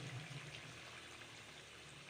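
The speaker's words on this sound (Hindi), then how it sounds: "अब थोड़ा सा इसको पानी लगा देंगे।" Water poured into a pot of fried potatoes for an aloo baingan sabji, a steady close pour and trickle with a low hissing wash that runs without pause for the whole span, no voices over it.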